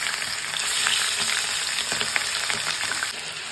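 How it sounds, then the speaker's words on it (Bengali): Chicken meat fries in a wok on a high flame with a loud, steady, close sizzle and crackle, broken by occasional stirring scrapes and no talk. "সেখানে পুরোটাই আমি কড়াইয়ে দিয়ে দেবো, পুরো মাংসটাই। এটাকে ভাজতে হবে।"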